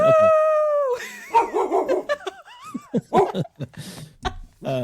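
A dog makes a series of short, uneven barks and yips with howl-like whining, close and fairly loud, ending in an irregular burst of vocalizing with no talk over it.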